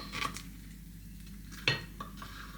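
Lasagne filling spooned from a pie maker onto a side plate, a few light metal spoon clinks and one sharper knock against the plate amid quiet background hum.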